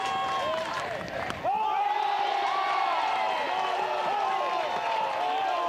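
Crowd at an Oregon vs. Stanford NCAA softball regional game swells into loud cheering, whoops and whistles that hold steady, with a commentator talking over it.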